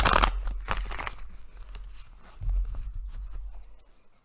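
Tarot cards shuffled by hand at close range, a few quick papery riffles and scrapes, loudest at the start and tapering into soft rustling.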